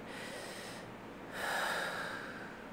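A person breathes deeply and slowly in a quiet setting: a soft inhale, a brief pause, then a fuller, louder breath that fades out.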